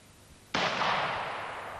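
A gunshot during a Jersey Field Squadron field training exercise in woodland, with troops advancing and firing: one abrupt, loud report that breaks into a sustained rushing, echoing tail slowly fading over about a second, with no voices.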